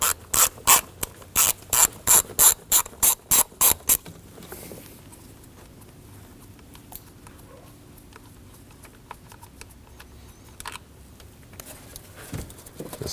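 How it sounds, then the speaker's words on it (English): A ratchet fitted with an 8mm socket removes a screw on a Ford Edge during a camshaft position sensor replacement, with a quick run of about a dozen close clicking strokes in the first few seconds, followed by quieter handling noises. "Using an 8mm, we can go ahead and remove the screw."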